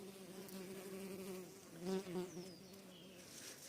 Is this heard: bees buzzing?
yes